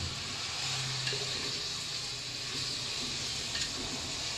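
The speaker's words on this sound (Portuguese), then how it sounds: "Deixa a nossa linguiça dar uma refogadazinha aqui." Sausage (linguiça) browning in a pan gives a low, even sizzle that holds steady throughout, soft and close with no talking.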